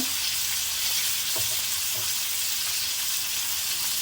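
Pomfret fillets frying in a pan of hot oil, a steady dense sizzle running the whole time with a couple of faint soft knocks, close and even, no voices.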